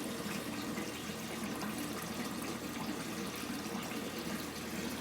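Water pours steadily into a grow bed fitted with an external siphon, a continuous soft rushing and gushing with no pauses, heard alone and fairly quiet.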